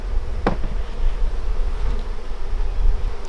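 Honeybees drone and buzz close by around an opened hive full of brood. The buzzing is continuous, with a few louder passes from single bees and no voices.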